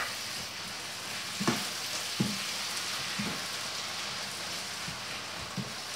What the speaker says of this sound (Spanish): Pues ya tenemos la cebollita que va cogiendo su color doradito